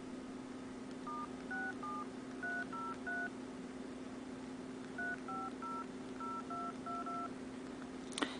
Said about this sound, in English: I'll go ahead and place a phone call